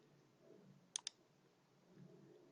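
Two quick, crisp clicks of a computer mouse sound in quick succession against a quiet background hiss while working in AutoCAD 2019, with no talking.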